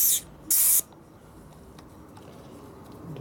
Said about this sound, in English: quick way to deflate your air